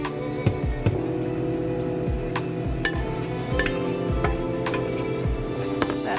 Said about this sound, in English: A good quick stir